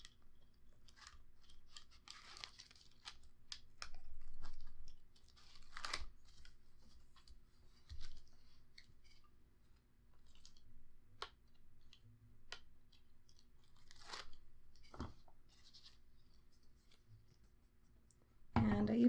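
Tape backing peels off paper during mini album crafting, with faint scattered crinkles, small rips and soft clicks spread across quiet moments.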